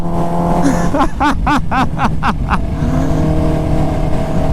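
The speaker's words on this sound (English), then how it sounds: "That thing sounds nasty when it's spooling." A loud supercharged Kawasaki Ninja H2R engine revs in a rapid series of sharp, rising bursts, each spiking briefly before dropping, then settles back into a steady idle rumble.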